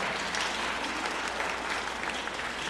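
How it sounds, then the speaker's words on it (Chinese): A church congregation claps together for a newborn boy during a Sunday service, producing steady, dense applause that fills the room for the whole stretch without pause. "我们给他拍手一下来。"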